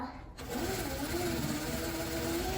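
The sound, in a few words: sewing machine stitching a bubble puff quilt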